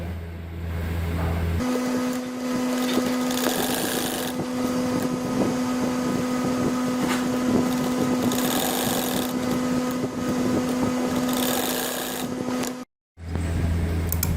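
A sewing machine runs steadily, stitching an appliqué neck design on fabric, with a constant motor hum and rapid needle rhythm for about eleven seconds before a brief stop and restart.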